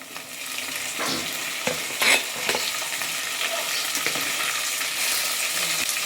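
Onion, red chili, green chili and tomato sautéing in a pan for poha, a steady close sizzle with repeated stirring scrapes and a few louder clatters, no talking.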